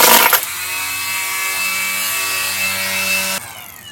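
Milwaukee brushless string trimmer running: a steady, close, high whining motor hum with a strong tonal drone that starts abruptly and cuts off near the end, no talking.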